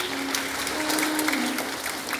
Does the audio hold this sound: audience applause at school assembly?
yes